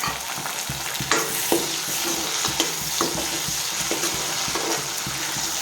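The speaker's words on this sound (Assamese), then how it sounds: "মাছখিনি ভাজি ল'ম এতিয়া" Fish frying in a pan for an Assamese fish pitika, with a steady loud sizzle and occasional stirring clinks and scrapes throughout.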